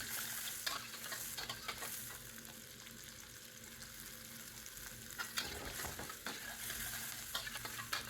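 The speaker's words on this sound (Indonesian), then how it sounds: "Ini kita tumis sampai berbau harum. Lalu kita masukkan bawang putih cincang." Sliced onion and minced garlic sauté in a hot pan, with a steady close sizzle and the scrape and clatter of a spatula stirring through, the sound surging briefly as the garlic goes in.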